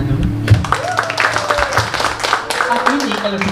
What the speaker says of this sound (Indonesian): Bisa berikan tepuk tangan dulu.